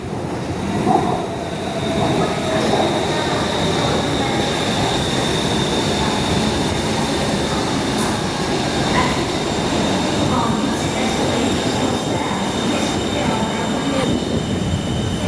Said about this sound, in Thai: รถไฟมาพอดีเลยครับ นี่ ขบวนเรามาพอดีเลย